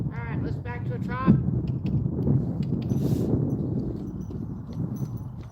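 Horse at a rescue ranch trotting, soft rhythmic hoof clip-clops over wind noise outdoors, a few short snorts or calls early on, moderately near.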